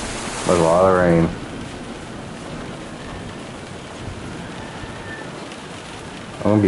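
Steady rain hissing in the video game Kingdom Come Deliverance 2, a constant broadband wash lasting throughout, with a voice speaking briefly near the start and again at the very end.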